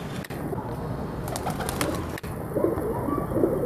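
Breeder pigeons cooing close by, with soft low repeated coos over a steady background and a few sharper bird chirps mixed in.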